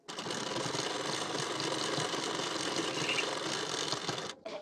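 A sewing machine runs steadily while stitching along the edge of a blouse, a continuous close mechanical whir lasting several seconds before stopping abruptly.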